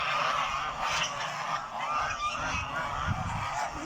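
Geese on a goose farm honking loudly and repeatedly, a busy overlapping chorus of nasal calls close by, no talking.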